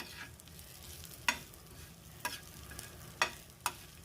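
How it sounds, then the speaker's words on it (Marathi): Fried tubers are stirred and sautéed in a spiced oil tempering, with a soft sizzle underneath and four or five sharp scraping strokes of the spoon against the pan, close and clear with no talk. "हे कंद असे मस्त फोडणीमध्ये परतून घ्यायचे"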